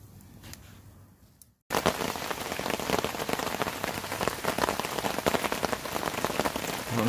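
Steady rain drums hard on a tent or tarp at a night campsite, a dense close patter that starts abruptly after a quiet pause and continues without a break.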